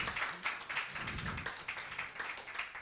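Audience applauding a guitarist introduced on a French TV music show, continuous brisk clapping from a small studio crowd, fairly even and moderately close, with a faint low murmur beneath.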